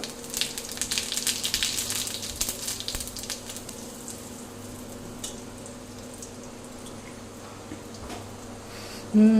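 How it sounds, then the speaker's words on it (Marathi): Cumin seeds crackle in hot oil for a tempering, with asafoetida and mustard seeds already in the pan; a steady close sizzle with scattered pops, louder at first and then settling to a softer hiss. "जिऱ्याची फोडणी मस्त झाली"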